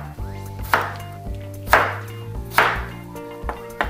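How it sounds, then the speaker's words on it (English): A knife dices chayote on a cutting board, a series of sharp, close chops at an uneven pace against faint background music. "I've got my chayote all diced up, ready to go"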